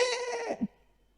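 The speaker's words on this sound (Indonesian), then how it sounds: "kambing itu kalau mengembik saja, itu ada 3 jenis embikan kambing" A goat bleats in one drawn-out, wavering cry that ends in a short grunt, loud and close with no talk over it.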